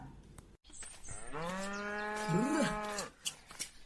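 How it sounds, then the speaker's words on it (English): Cows mooing as an audio drama sound effect: one long, loud, close moo that holds steady for about two seconds, with a second bovine call rising beneath it, followed by faint rustling. "Kach goes with the cows."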